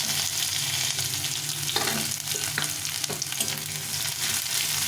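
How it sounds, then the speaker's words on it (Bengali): Chopped onion hits hot oil already crackling with dried chili and cumin, giving a steady close sizzle broken by a few sharp spoon-stirring scrapes. "এখন এর মধ্যে পেঁয়াজ কুচিটা দিয়ে দেবো।"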